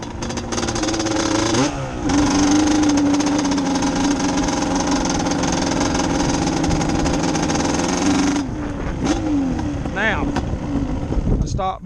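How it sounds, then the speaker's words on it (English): An ATV with a 421 Cub motor labors up a small hill, its engine droning loud and close with a sputtering, uneven tone and a brief rev change near the end. "You let the clutch out off idle, try to get down on the gas, it'll go up this hill sputtering."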